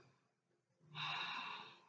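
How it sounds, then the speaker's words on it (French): A single audible breath exhaled during a Pilates exercise, a soft airy rush of air that swells after a quiet pause, close and fairly faint. "Respiration pilates."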